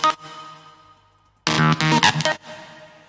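An electronic drum fill erupts after a fading sustained synth tone: a dense, loud burst of layered hits lasting about a second, then cutting off abruptly, with no voices.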